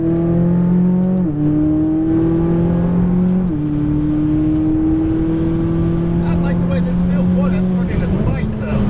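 McLaren 570S engine on a race track, a loud sustained drone that holds pitch and then drops abruptly with each gear change, with a driver talking over the engine.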